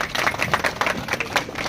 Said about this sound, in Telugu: అందరూ కూడా చప్పట్లు కొడుతూ